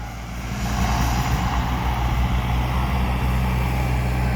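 A Kubota L5018SP tractor with a turbocharged engine runs at a steady, loud, close drone, its low rumble and broad whine holding even without pause.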